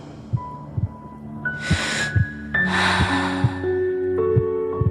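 Loud, ragged breaths rush in and out in quick bursts over a low thudding heartbeat and a droning hum, sounding close and panicked.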